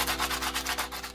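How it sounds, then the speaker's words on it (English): Sandpaper rubbing steadily back and forth across dried epoxy on an art doll, a close, rhythmic scratchy rasp of quick strokes. "epoxy requires a lot of sanding"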